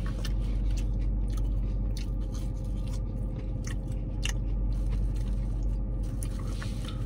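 Close, steady crunching and chewing of hot fries with Louisiana Cajun seasoning, continuous over a low background hum with no talking.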